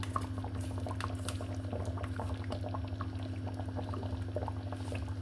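Champorado rice porridge bubbling steadily in a pot as cocoa goes in, a continuous close simmering patter with a low steady hum underneath and no talking.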